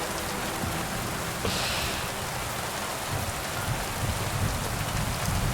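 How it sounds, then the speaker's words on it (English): Steady heavy rain hisses continuously in Kingdom Come: Deliverance 2, dense and close, with drops pattering on the character's outfit and no voices. "Is it just the rain, the sound of the rain on my outfit?"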